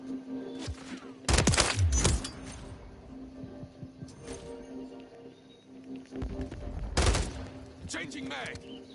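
Gunfire in the video game GTA during a live car meet: two loud bursts of rapid shots stand out above fainter scattered firing, and a voice talks now and then underneath.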